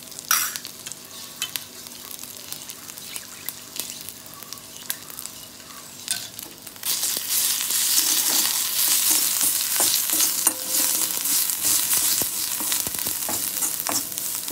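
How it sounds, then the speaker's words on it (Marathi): Turmeric and kharda drop into hot oil for a tempering in an iron kadhai, with stirring first and then a sudden loud, steady sizzle that continues to the end, close by and without talk. "तेलातच आपण हळद टाकतोय।"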